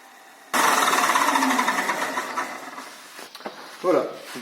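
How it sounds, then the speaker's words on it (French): A 400 grit sanding belt runs against a forged knife blade on a belt grinder, a sudden loud rasping hiss that fades and wavers over a few seconds, followed by brief clatters and a short scrape. "cette bande de 400 arrive très bien à enlever les marques du grain 80"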